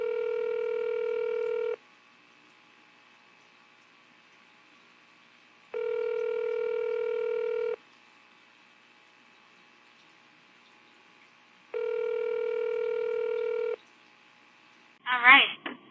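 An outgoing phone call goes unanswered: three long ringback tones, each about two seconds, separated by silent gaps, then a brief burst of sound at the very end.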